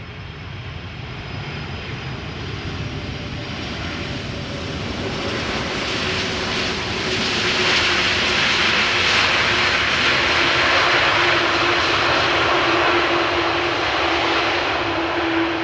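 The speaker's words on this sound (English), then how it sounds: "This is Turkish flight 1951." A Turkish Airlines jet arrives at Amsterdam Schiphol, its steady engine roar building and growing louder over the second half with a whining tone rising on top, with no voices.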